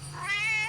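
A DJ cat nextbot from a video game gives one short rising meow, clear and close over a low steady hum.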